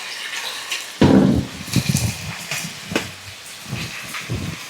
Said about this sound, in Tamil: நான் கொஞ்சம் தண்ணி வைக்கணும்.